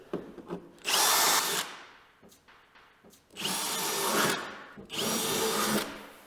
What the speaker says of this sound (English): We're gonna drill all the OEM holes